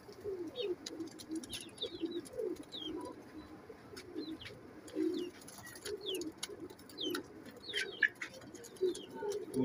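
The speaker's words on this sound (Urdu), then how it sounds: "کبوتر بہت اچھا ہے دوستو، ماشاء اللہ اڑتا ہے" Pigeons coo repeatedly in soft low throaty calls, close by, while small birds chirp faintly in the background.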